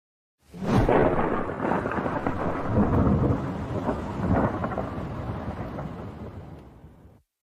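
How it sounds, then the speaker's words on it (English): A heavy nighttime downpour with thunder: a loud rumbling crack opens over steady roaring rain, the storm rolling on densely before fading out after about seven seconds. "It was raining very heavily that night."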